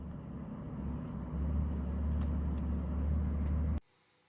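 A 2006–2011 Chevy Impala with a 3.5L engine runs and warms up after a water pump replacement, giving a steady low hum that grows slightly louder before cutting off abruptly near the end.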